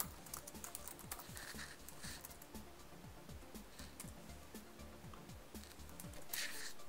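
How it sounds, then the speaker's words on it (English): Steady rapid typing on a computer keyboard while entering text in a video editing app, continuous dense key clicks for about seven seconds, close and clear with no talking. "Type in the text that you'd like."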